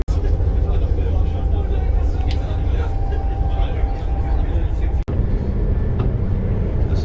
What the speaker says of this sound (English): near the end of our train ride from Frankfurt to Bamberg